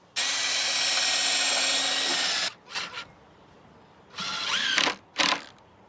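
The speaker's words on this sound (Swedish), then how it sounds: "När du ska skruva nära en kant så här så måste du förborra så att träet inte spricker." Power drill pre-drilling wooden decking boards close to the board edge to keep the wood from splitting; a loud sustained whine runs for about two seconds, followed by several shorter bursts as the bit spins up and cuts.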